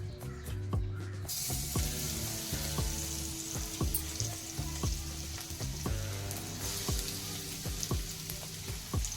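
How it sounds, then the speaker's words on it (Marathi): Garlic frying in oil in a pan gives a steady, close, moderately loud sizzle that holds through the whole stretch, with faint clinks of stirring and no voices. "पॅनमध्ये मी तेल टाकलेलं आहे आता आपण त्यामध्ये लसूण टाकणार आहोत"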